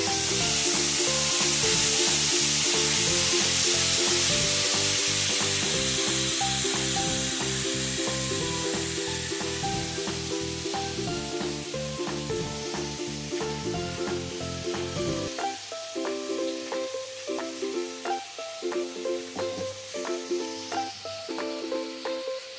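Curry leaves and tamarind fry in hot oil for a homemade chukudukaya pickle, giving a loud, steady sizzle that thins out and turns more crackly toward the end.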